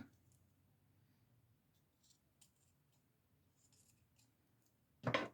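Scissors snip a piece of pink satin ribbon for a scrapbooking craft: faint small rustles and clicks of handling, then one sharp, close cutting snip at the end.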